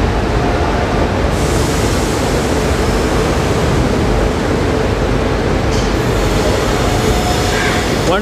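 The Garib Rath Express pulls out of Mumbai's Chhatrapati Shivaji Maharaj Terminus on its run to Jabalpur, a loud, continuous broadband rumble and rush of a moving train that holds steady throughout.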